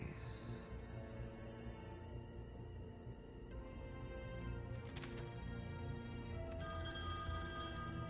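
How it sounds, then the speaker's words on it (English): A telephone rings in The Wolf Among Us video game, faint repeated electronic bell tones over a low ambient hum, with a brighter ringing burst near the end. "She finna wake up now, the phone ringing."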